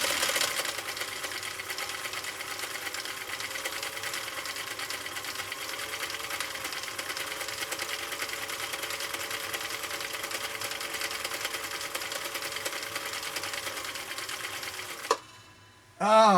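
A Husqvarna Viking CI 21A sewing machine stitches a pattern in a steady, fast mechanical whir that runs unbroken for about fifteen seconds, then stops abruptly, followed by a brief clatter.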